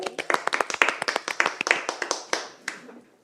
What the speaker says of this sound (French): Un petit applaudissement